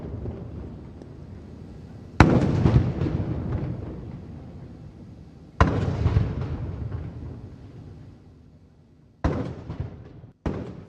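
Heavy ceremonial cannon booms of a gun salute in Malé, Maldives fire one after another, four blasts at uneven intervals, each rolling and echoing as it fades across open air.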